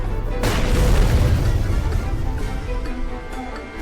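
A ground-impact meteor strike skill explodes in the video game Shell Piece: a loud, close boom bursts out, then rumbles and slowly fades over a few seconds, with no voices.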